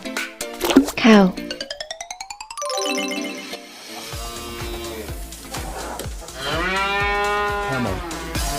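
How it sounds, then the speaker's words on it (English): A cartoon cow lets out a drawn-out moo amid playful sound effects and springy boings, close and loud, followed by a voice speaking. "Cow, cow."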